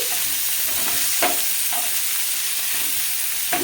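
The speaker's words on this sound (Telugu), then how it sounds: "ఎర్రగడ్డలు దీంట్లోకి వేసుకోవాలా. వేసుకొని కలిపేసుకోవాలి." Onions added to hot oil in a pan for a dhaba-style paneer curry, a loud, steady hiss of frying close up, broken by a few scraping stirs of a spoon, with no talking.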